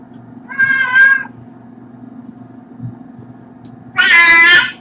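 A barn kitten being handled during a shelter intake lets out two loud, strained cries, each about half a second long and separated by a quiet pause, over a low steady hum.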